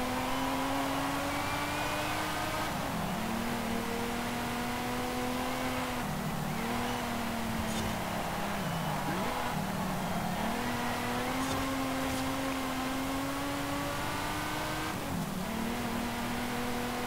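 A 1957 Ferrari 250 California in Forza Horizon 5, its engine droning steadily on track with pitch rising and falling through gear changes and revs, loud and continuous with no talk.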